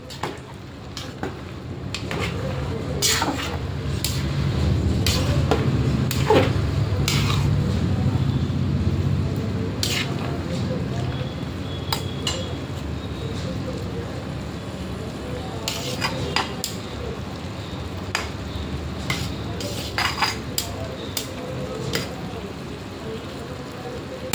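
Veg pulao rice in a large pot is stirred with the handle of a ladle, producing repeated clanks and scrapes against the metal under a low sizzle, with a voice talking at times.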